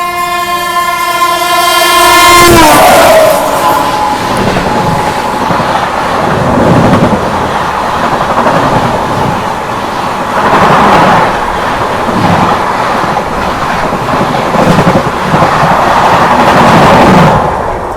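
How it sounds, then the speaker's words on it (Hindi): On an Indian railway, a passing train sounds a long loud horn, then its coaches rumble past close by with a steady rolling clatter. "यहाँ पर एक और कोई तो ट्रेन के साथ क्रॉसिंग अपनी हो रही है"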